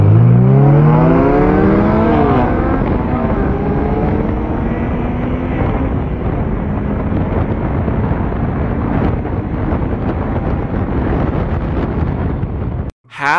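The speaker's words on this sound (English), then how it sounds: "328i versus a full exhaust S2000." A BMW 328i races a Honda S2000 fitted with a full exhaust: loud, close engine roar with rising revs and gear changes at the start, then a sustained, harsh drone with wind buffeting until an abrupt cut near the end.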